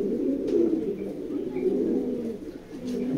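Racing pigeons cooing close by, a continuous low warbling murmur from several birds.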